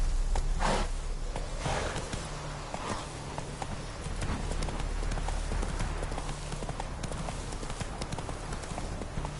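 Hooves of Geralt's horse Roach clip-clop in The Witcher 3: Wild Hunt on PS4, a steady walking rhythm of hoofbeats with a few louder early steps over a constant low game ambience, and no talk.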